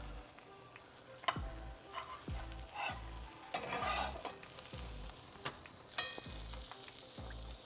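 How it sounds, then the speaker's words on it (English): Quesadillas sizzle on a hot grill as the cheese melts, with a steady frying hiss broken by sharp clicks and taps of a utensil scraping and turning them. "Really just grilling these till the cheese is melted"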